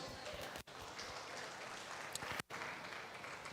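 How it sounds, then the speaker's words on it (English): A crowd at a college esports event applauds the host campus, a dense, hissing wash of many hands clapping at a distance that runs steadily throughout, with two brief dips. "So I would request you guys to give them a big round of applause"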